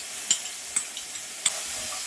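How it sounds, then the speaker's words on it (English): Ginger and garlic frying in hot vegetable oil in a pan, a soft steady sizzle broken by three or four light clicks of a utensil, close and quiet with no voices. "First I'm going to fry ginger garlic."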